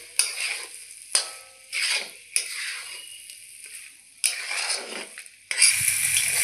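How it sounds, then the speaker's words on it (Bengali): A spatula stirs fried peas and potatoes into spice masala for matar paneer, making repeated scraping, sizzling strokes in uneven bursts, close by, ending in a louder hiss. "মশলার সঙ্গে ভালো করে মিলিয়ে নেব।"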